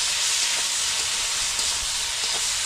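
Parshe fish frying with turmeric in a pan, a loud continuous hiss of hot oil filling the short stretch, with faint soft stirring bumps underneath and no talking.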